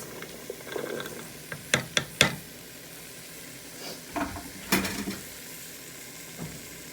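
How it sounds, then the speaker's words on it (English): Chickpeas being stirred into chana masala in a pan: steady low sizzle under sharp scraping and clacking spoon strokes, a cluster of quick knocks early on and a few louder scrapes later, close and fairly quiet. "We'll stir all of that together."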